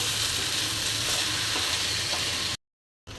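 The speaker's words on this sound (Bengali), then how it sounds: "এখন চালটা ভালো করে ভেজে নিব" Polao rice frying in a pan with green chillies and ginger-garlic paste, giving a loud, dense, continuous sizzle up close that cuts out abruptly near the end, then resumes briefly.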